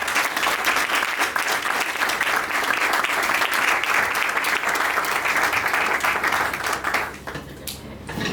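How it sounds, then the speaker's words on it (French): Guests at a civil wedding ceremony in Gabon break into loud, dense applause that holds steady for about seven seconds and then fades. "veuillez applaudir, je vous prie."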